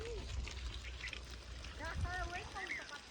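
Water sprays in a steady broadband hiss over a newly built village bungalow, with children's and adults' voices calling over it throughout.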